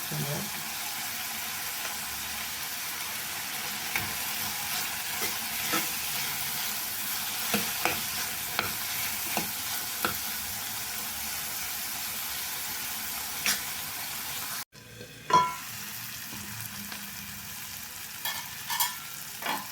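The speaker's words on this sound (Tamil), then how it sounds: "பாருங்கள் எல்லாம் நல்லா வதங்கிடுது" Vegetables and peas for vermicelli sautéing in a pan: a continuous hiss of frying with regular spatula taps and stirring scrapes, briefly cut off once, then resuming.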